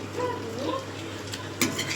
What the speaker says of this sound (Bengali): এই যে বেগুন ভাজা হচ্ছে, মানে খাওয়ার আগে একটু বেগুনটা ভেজে নিচ্ছি